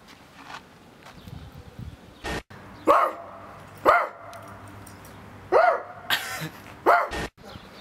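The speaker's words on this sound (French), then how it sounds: "Hey, y'a un chien là-bas, y'a un chien." A dog barks several times in sharp single yaps spaced a second or so apart, fairly close and loud, over a murmuring outdoor background.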